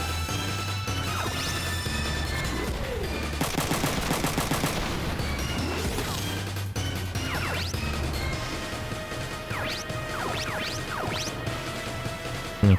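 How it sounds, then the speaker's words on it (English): Mech combat gunfire in Front Mission 3, with bursts of rapid automatic shots, crashing impacts and scattered synthesized effects layered over a looping low game tune, no speech. "Okay, you keep shooting this guy."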